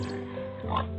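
A wild pig in the Pantanal wetland forest gives a short, close grunt near the end, over a steady low humming background.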